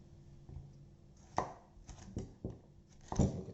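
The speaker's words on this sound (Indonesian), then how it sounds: "Kemudian paprika kuning ini kita gunakan seperempat saja ya. Ini kita cincang" A yellow bell pepper being chopped on a cutting board: a handful of sharp knife strikes spaced irregularly, with a louder pair of chops near the end, close by and with no talking.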